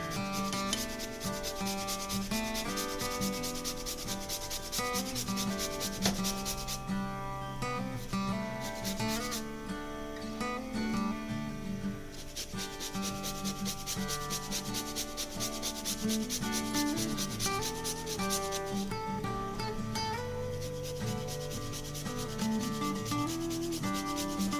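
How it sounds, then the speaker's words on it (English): Frozen unpeeled ginger being grated, a steady close rasping scrape that runs continuously and evenly throughout, with no talking. "which is how I keep my ginger because it stays good like forever. And it's so easy to grate when it's frozen."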